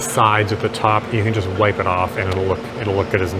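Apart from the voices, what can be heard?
None of the usual background noises is heard.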